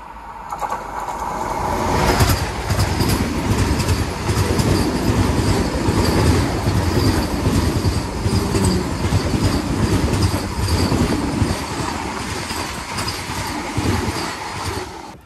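The Secunderabad–Tirupati Vande Bharat Express rushes past close by, a loud sustained roar of wheels with rhythmic clickety-clack and faint squeals on the rails, holding steady for over ten seconds before easing slightly.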